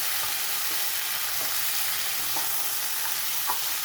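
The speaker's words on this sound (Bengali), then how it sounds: "মশলাটা দিয়ে একটু ভালো করে নাড়তে হবে" Sambar masala is stirred into a potato curry for dosa frying in a pan: a constant dense sizzle runs throughout, punctuated by a few soft scraping strokes of a spoon.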